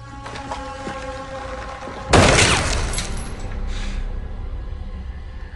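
A sharp gunshot in a zombie film bursts out abruptly partway through, a single loud crack with a crashing, shattering tail that slowly fades over a steady low background rumble and tones.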